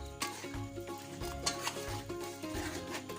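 A spoon stirs masala into green chicken curry in a pan, with repeated scraping strokes and a soft sizzle close by, all without talk.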